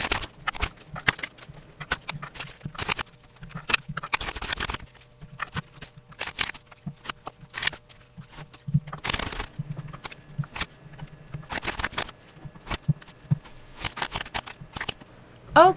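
Tarot cards being shuffled and handled, giving a run of crisp riffling bursts and soft papery slaps in irregular clusters, close and moderately loud against a quiet background.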